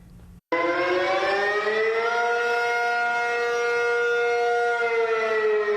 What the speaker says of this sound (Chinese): 听到这个警报声音，民众拢停落来